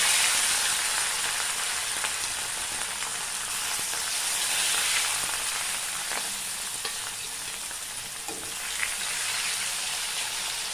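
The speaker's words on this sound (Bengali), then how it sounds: "মাছগুলো এখন হালকা করে ভেজে নেব।" Four rohu fish pieces fry in oil in a wok, a loud continuous hissing sizzle lasting the whole stretch with occasional faint pops, close and uninterrupted by speech.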